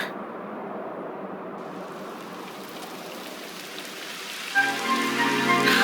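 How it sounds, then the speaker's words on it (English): Rain falls in the video game Dragon Quest XI S as a continuous hiss of drops on surfaces, with a brighter, louder layer of game sound entering toward the end. "It would have to go and start raining, wouldn't it?"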